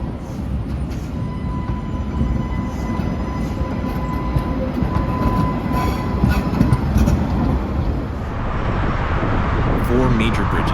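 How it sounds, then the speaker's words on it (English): Old Soviet-era tram rolling through Riga, a loud continuous rumble with faint high whines and squeal tones, shifting to rattling clatter near the end. "The trams and trolley buses are reminiscent of the Soviet era."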